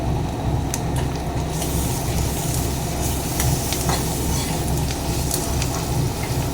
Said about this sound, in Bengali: এবার এখানে আদা রসুনের পেস্টটা দিয়ে আবারও একটু ভেজে নেব।